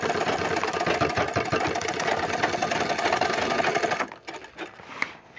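A sewing machine double-stitching the corner seam of a bag made from a fertilizer sack, running in a steady continuous whir for about four seconds, then stopping into quieter handling sounds.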